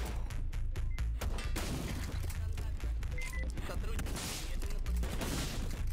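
Gunfire and loud crashing booms from the brutal first-person shooter VLADiK BRUTAL, a dense, continuous barrage of shots and impacts filling the whole stretch with little pause.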